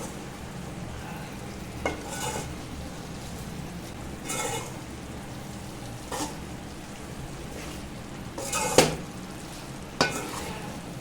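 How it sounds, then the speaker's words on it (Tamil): Soya chunks (meal maker) fry in a covered pan with a soft, steady sizzle, broken by several short scraping bursts as they are stirred. "இதே மாதிரி நீங்கள் அப்பப்போ மூடி வச்சு திறந்து கிண்டி விட்டுக்கோங்க."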